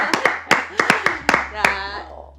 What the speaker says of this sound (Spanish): Qué lindo, un aplauso